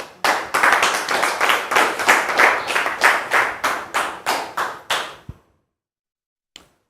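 A studio audience claps for a guest on a talk show: rhythmic, fairly sparse hand claps that sound close and loud, fading after about five seconds into silence with one last stray tap.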